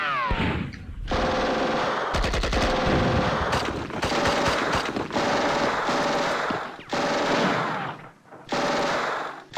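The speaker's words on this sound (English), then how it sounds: "My auto cannons can actually shoot them too." Autocannon and machine-gun fire in the WW2 strategy game Steel Panthers, loud sustained rapid bursts that repeat in several long volleys with short pauses between.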